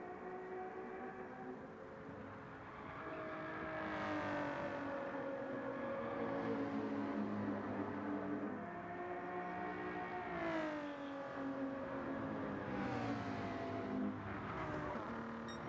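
McLaren race car in a GT racing video game at Spa, its engine droning and rising through the gears against other cars, heard alongside background engine hum without speech.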